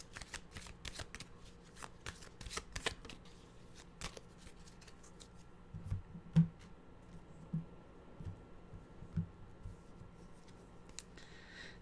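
Animal oracle cards being shuffled by hand, a steady patter of soft riffling snaps and slides, quiet and close, with a few firmer taps.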